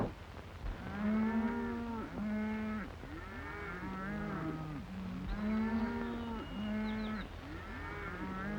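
A cattle herd moos repeatedly in a rural Western setting, long loud lowing calls overlapping one after another from several animals, fairly close and continuous throughout.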